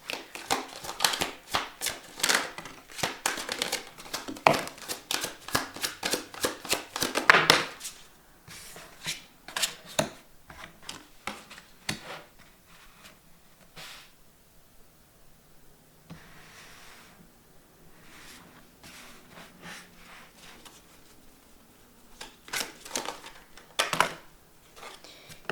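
A tarot deck is shuffled and dealt in quick, dense bursts of crisp card riffles and slaps for the first eight seconds, then scattered softer flicks and card placements with quiet gaps, close and clear with no talking.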